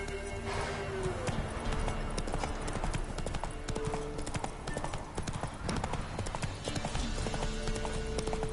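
A horse trots with steady, loud clip-clopping hooves throughout, a brief whinny near the start, and voices calling out over the hoofbeats.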